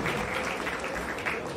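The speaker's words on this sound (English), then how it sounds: "Can we give a round of applause to the organizers?" An audience applauds the organizers of a birthday celebration with a dense, steady wash of clapping that lasts the whole short moment, with no voices over it.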